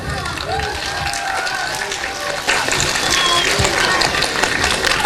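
An audience at an Easter charity fair claps and cheers steadily throughout, growing slightly louder halfway, with voices mixed into the applause.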